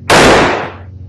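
A single loud gunshot from the Icy Frostbite shooter game cracks out sharply and then trails off in a fading echo, with no talk over it.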